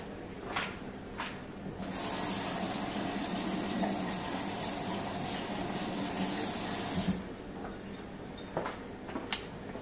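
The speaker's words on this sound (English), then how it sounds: "I'm gonna rinse my tray off real quick." Warm water runs steadily from a tap as an egg tray is rinsed beneath it, a continuous splashing hiss with a few clicks and knocks at the start and end.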